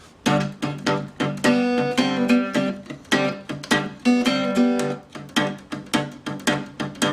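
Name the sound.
guitar playing pre-verse riff of a song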